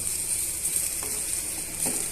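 Potato fry sizzling steadily in a pan with pepper powder, a continuous bright hiss with faint stirring scrapes, close and fairly loud with no speech.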